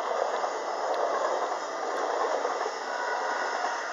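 A train passes in the Netherlands, a steady broadband rumble and hiss of railcars running continuously for several seconds with no pauses, loud and close.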